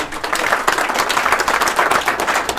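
Attendees at a sales meeting give themselves a big round of applause, a dense, loud wash of rapid overlapping claps filling the room for a couple of seconds.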